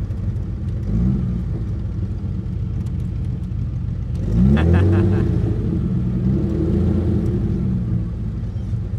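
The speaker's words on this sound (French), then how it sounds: "Donc le mec est en train de faire un créneau avec une voiture du Mans quand même." Deep rumbling of an Alpine A110 sports car engine during parallel parking, a steady low idle that swells into a brief throttle blip midway before settling back to a rumble.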